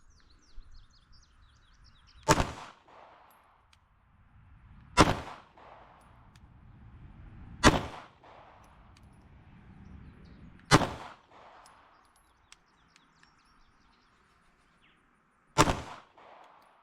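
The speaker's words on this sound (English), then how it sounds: "Using a loaded gun, I am going to fire 5 shots into the numeral 3 using the tip of the pad of my finger." Five sharp handgun shots from a loaded pistol fired at a numeral 3 target, spaced a few seconds apart with the third and fourth closer together, each a loud crack with a brief echoing tail over quiet outdoor background.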